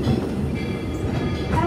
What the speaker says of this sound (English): As we are arriving at the station, please remain seated until the train comes to a complete stop.